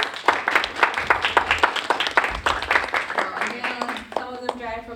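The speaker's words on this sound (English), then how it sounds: "Let's give them a round of applause." An indoor audience at a university alumni association annual meeting claps steadily for board members, a dense patter of many hands that holds for several seconds before thinning out as a voice begins.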